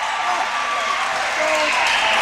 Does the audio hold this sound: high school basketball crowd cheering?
yes